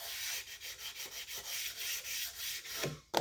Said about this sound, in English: I'll carefully wipe all this down and get all the grit off of it.